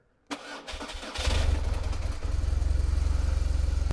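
BMW R1200GS motorcycle engine starting with a sharp starter crank that catches and rises into a throbbing, rhythmic idle, close and moderately loud, no talking.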